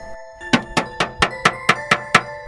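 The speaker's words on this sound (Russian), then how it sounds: "это был звук удара кулака по стеклу" Eight evenly spaced knocks of a fist on window glass ring out sharply at night, loud and resonant, each with a short glassy ring, in a quiet room with no talking.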